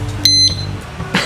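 A motorcycle alarm disc lock emits a short electronic beep when its button is half pressed, one clear tone followed by a brief second chirp, close and loud.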